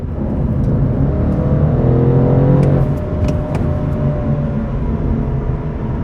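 BMW M850i Gran Coupe V8 exhaust in sport mode rumbling over cement road surface, steady loud engine drone blended with coarse tyre and road noise, close and continuous without speech.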